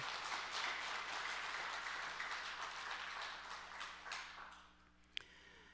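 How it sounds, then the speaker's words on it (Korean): Church congregation applauding together during a Sunday service, a steady wash of clapping that thins out toward the end, with a sharp knock near the close. "한번 큰 우리 박수 한 번 드립시다"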